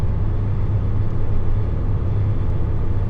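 A 26-tonne lorry engine braking produces a steady low rumble and whir, continuous and fairly loud from inside the cab, with no talk over it.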